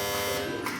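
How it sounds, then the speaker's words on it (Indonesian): A buzzer on a PLC trainer for forward-reverse control of a three-phase induction motor gives off a loud, steady electronic drone with a harsh, rich tone. It sounds alone and lasts under a second. "buzzer akan otomatis berbunyi"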